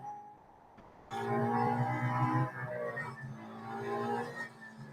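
Race car engine from the Real Racing 3 mobile racing game, a steady loud revving drone with shifting pitch that jumps in suddenly, holds through gear changes and carries on without pause.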